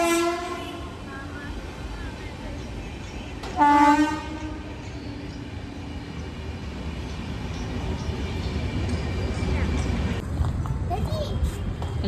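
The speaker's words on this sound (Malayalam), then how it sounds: "ആ ട്രെയിൻ പോകുന്നു കേട്ടോ." A train passes close by with a loud horn blast partway through over a steady rumble, and the clattering roar of the wagons builds toward the end.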